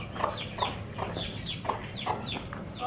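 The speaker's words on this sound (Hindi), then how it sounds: "ये अपने गले से जैसे कुड़क मुर्गी होती है कुड़क कुड़क की आवाजें करती है" A broody hen clucks in low, repeated throaty bursts, about two per second, close by and steady with no voices.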